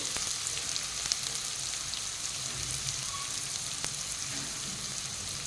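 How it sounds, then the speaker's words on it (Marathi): Chopped onion frying in oil with mustard seeds and cumin, a steady soft sizzle with a few faint clicks, heard alone with no talk. "मोहरी जिरे चांगली परतल्यानंतर आपण त्याच्यात कांदा टाकून घेतलेला आहे।"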